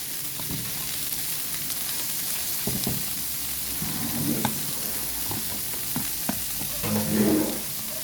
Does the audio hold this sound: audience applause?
no